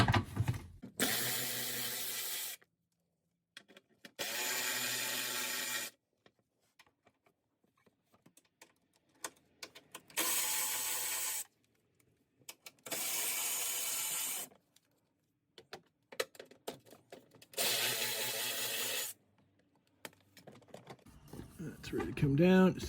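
Bolts holding the under tray of a 2006–07 Subaru Impreza WRX GD with the 2.5 l engine are spun out with a power tool in several loud whirring bursts, each a couple of seconds long, separated by quiet gaps with small clicks and rattles.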